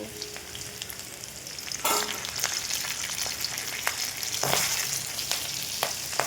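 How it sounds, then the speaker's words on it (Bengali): Garlic and green chillies fry in hot oil for a drumstick-leaf greens dish, a steady hiss with a louder burst of sizzle as they go in, plus occasional utensil scrapes. "তেল গরম হয়ে গেছে, এবার রসুনটা দিয়ে দেব। তারপর কাঁচা লঙ্কা দিয়ে দেব।"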